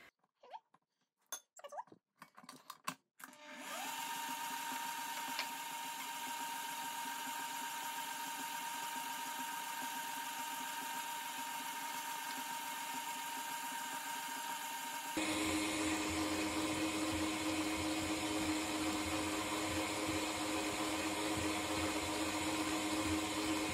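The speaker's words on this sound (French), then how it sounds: "j'ai introduit tout le beurre après avoir fouetté super bien 2 minutes à la vitesse maximale" A stand mixer whisks butter into crème mousseline at maximum speed, a steady loud motor whir with a constant whine that starts after a few light kitchen clinks and shifts to a rougher, heavier tone partway through.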